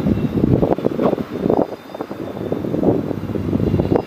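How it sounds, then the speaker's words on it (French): Storm Ciaran's strong wind buffets an outdoor microphone at a Charleroi fishing spot in repeated rumbling gusts that swell and ease, loud and unbroken throughout. "Je pensais pas qu'il y aurait autant de vent"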